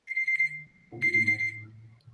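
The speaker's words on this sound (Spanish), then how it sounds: "¿Está sonando un despertador o algo?" An alarm clock rings indoors in two bright, steady bursts, the second starting about a second after the first, with a faint low murmur beneath.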